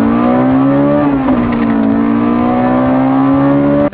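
A Honda car engine revs loudly and steadily, holding a high droning pitch with a slight dip around the middle before cutting off abruptly at the end.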